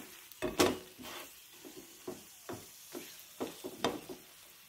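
Onion-stuffed paratha fries in a pan until golden brown, giving a soft sizzle under a series of scraping, stirring knocks spaced irregularly, with no voices.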